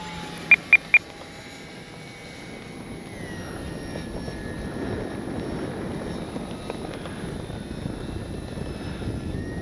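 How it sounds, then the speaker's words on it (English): An FMS PC-21 Pilatus RC model plane flies at full speed into the wind, its electric motor giving a steady distant whine that grows slightly louder, after three quick clicks at the start; no one speaks. "Plane looks amazing in the air against those blue sky and them clouds"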